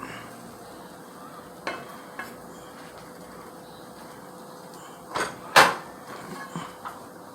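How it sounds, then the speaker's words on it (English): Rice cooking in a pot, stirred a few times with a spoon: soft steady simmering hiss broken by scattered scrapes and a couple of sharper knocks against the pot near the end, close by, with no voices. "So what I'm gonna do is stir it a little bit."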